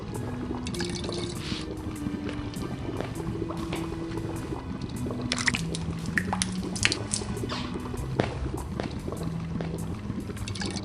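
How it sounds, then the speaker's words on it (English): A mounted vase fills with water in the game Under a Killing Moon, with soft trickling and dripping throughout, a few brighter splashy drips, and faint low game tones underneath. "As I fill up the mounted vase, the champagne cork flows to the top."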